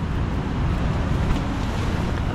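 Typhoon wind buffets a seaside campsite with surf crashing nearby, a continuous dense roar of gusts and waves with no voices.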